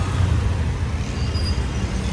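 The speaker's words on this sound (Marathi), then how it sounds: "ट्रॅफिक क्लिअर होऊ द्या ट्रॅफिकमधनं निघू द्या पहिले भाई" Road traffic on a busy Pune street, with a dense low rumble of cars, buses and trucks passing nearby and a faint hiss of air brakes. The noise holds steady throughout, and no one speaks.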